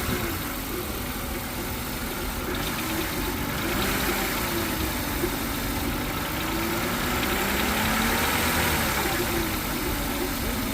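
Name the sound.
BMW car engine revving with a little gas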